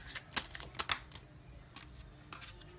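Tarot cards shuffled and laid down for a Hindi love reading, giving a few soft, close papery flicks and taps spread across a quiet moment.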